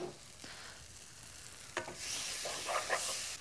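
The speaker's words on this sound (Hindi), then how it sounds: "प्याज एकदम हल्का सा सौते करना है" Onions with mustard paste sautéing in a pan sizzle softly, with a few scrapes of stirring that swell into a brighter, louder fry toward the end.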